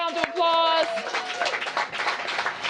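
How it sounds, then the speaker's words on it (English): Round of applause from a crowd at an outdoor groundbreaking ceremony for short-term family housing, with clapping rising under a speaker's voice and continuing as scattered claps through the clip. "Give Lisa a round of applause"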